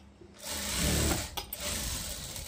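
A sewing machine runs steadily while stitching a seam on a boat-neck blouse in a tailoring class, a continuous close mechanical whirr with a brief dip midway before resuming, no talking.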